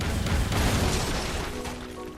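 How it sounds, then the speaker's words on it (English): Explosive gel detonates and blasts open a wall in Batman: Arkham Asylum, a loud, booming explosion at the start that fades into a rumbling decay with debris. "And voila! The wall has been exploded."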